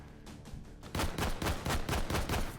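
Rapid gunfire from a PSG1 rifle in the VR shooting game H3VR, roughly eight sharp, loud shots in an even rhythm after a brief quieter stretch of lighter mechanical sounds.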